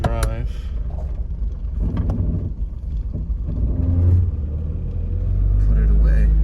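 A 1995 GSX with an automatic transmission is put into drive: close engine rumble with some shifting and revving, rising into a heavier low drone at the end, and a person talking over it.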